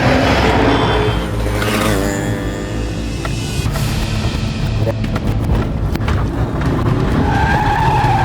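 Cars in a chase, one overtaking and skidding, with loud engine roar and squealing tires up close, sliding screeches and bursts of noise in the later seconds.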